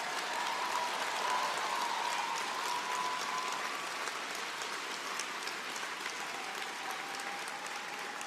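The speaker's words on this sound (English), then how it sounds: "let's give Karina and the whole team who works with her so hard every day in the House Leader's office a huge round of applause" Supporters and caucus members applauding Karina and her team from the House Leader's office at a Justin Trudeau event, a sustained, even roar of clapping from a sizable crowd at moderate distance.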